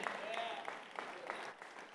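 A conference audience at a fire rescue event in Orlando applauds with steady, dense clapping that fills the room, heard at moderate level with indistinct voices mixed in.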